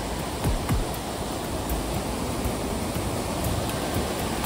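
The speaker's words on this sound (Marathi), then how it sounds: "ऐसे लग रहा है नदी रोर कर रही है, रोर।" A river roars below Kalu waterfall at Malshej Ghat in a loud, constant wash of rushing water, close and unbroken, with faint thumps of handling but no speech.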